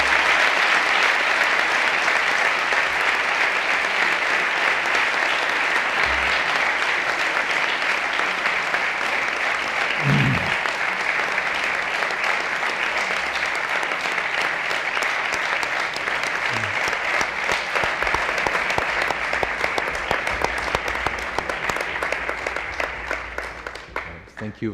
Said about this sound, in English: I think we can make an applause to